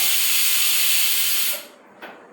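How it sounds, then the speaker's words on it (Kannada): A Hawkins pressure cooker lets off a loud, continuous hiss of steam while cooking mushroom biryani, then the whistle cuts off abruptly, followed by a short faint puff. "ಕುಕ್ಕರ್ ವಿಷಲ್ ಬರ್ತಾ ಇದೆ"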